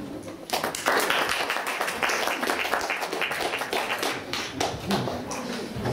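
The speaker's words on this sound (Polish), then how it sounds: "Wielkie brawa" Clapping rises from the audience at a Christmas poetry evening in Jama Michalika, sparse and close at first, then a fuller round that carries on unevenly for several seconds.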